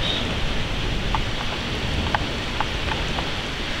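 Steady heavy rain hisses continuously in Rio Grande, with occasional louder drops tapping nearby.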